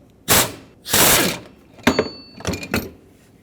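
A ratchet loosening a 15mm tensioner bolt on a 2008-2010 Ford F-250 with 6.4L diesel engine, two long clicking pulls and then several shorter quick bursts, close and loud.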